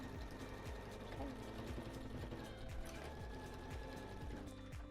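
A sewing machine runs steadily through fabric while a scrappy patchwork pet leash is stitched, its dense mechanical whir continuous and close throughout, with a voice talking over it.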